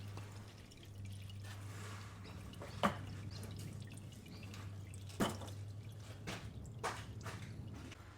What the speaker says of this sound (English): whilst the remainder of that oil is draining